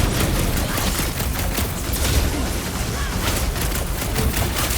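Continuous crackling bursts of an explosive fireworks attack in the Guardians of the Galaxy video game, a dense, loud barrage of rapid pops and blasts with no pause.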